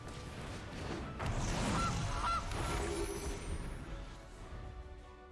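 A goose honk sound effect from a card in the Magic Arena digital card game, with a couple of short nasal honks over busy game sound and background music, no talking.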